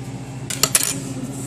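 Spoon and dishes clinking at a bowl of rice with stir-fried beef and bok choy: two or three quick, close metallic clinks, with no talk.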